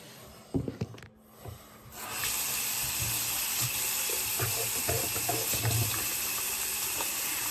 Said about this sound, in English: Of course, we do the hand wash.